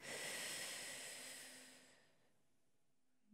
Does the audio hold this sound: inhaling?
yes